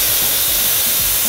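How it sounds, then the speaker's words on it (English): An espresso machine steam wand is purged, giving a loud, steady burst of hissing steam that fills the short moment alone. "you want to purge the steam wand"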